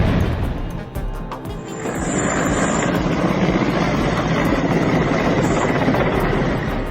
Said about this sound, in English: A cross-air Boeing 747-400 roars to life at St. Martin, soaring right overhead.